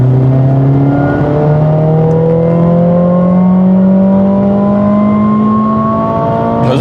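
A Mercedes-AMG CLA 45 S in race mode sends out a loud, steady exhaust and engine drone whose pitch climbs gradually as it accelerates, with no voices over it.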